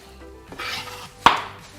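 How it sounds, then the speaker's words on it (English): A knife chops through stacked, rolled-up vegetables on a cutting board, a faint early tap followed by one sharp, close strike in an otherwise quiet kitchen. "Give them a little chop."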